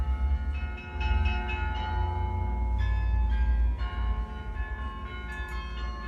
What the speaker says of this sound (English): So it's this giant Gothic cathedral with a bell tower, and it's playing Avicii out of it.